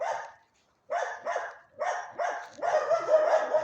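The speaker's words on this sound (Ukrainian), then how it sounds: "І їм так все одно, що на них гавкають зі страшезною силою." A dog barks loudly and close by in several sharp bursts, with a short pause after the first and a quick run of barks near the end, while a family walks past outside.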